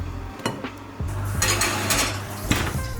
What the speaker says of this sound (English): I'm gonna put it in a bowl, put it in the oven, and heat it up for a bit.